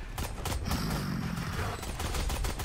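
Rapid gunfire bursts from a Valorant match after the spike is planted, several overlapping volleys filling the short stretch at close range, with no talk over it.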